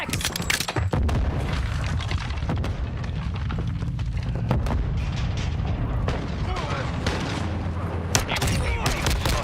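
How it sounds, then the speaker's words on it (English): Semtex grenade blast in the Call of Duty Warzone battle royale game, set amid continuous heavy gunfire and booms, loud and dense throughout with a sharp burst near the end. "Throwing Semtex"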